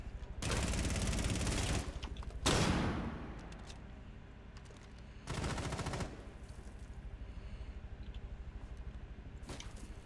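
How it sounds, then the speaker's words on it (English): A dental gun fires in a video game, with several loud bursts of rapid-fire shots, each lasting about a second or more and separated by quieter stretches, plus a few short single pops near the end. "It's the dental gun!"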